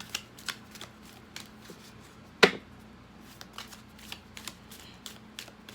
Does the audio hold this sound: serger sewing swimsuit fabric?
no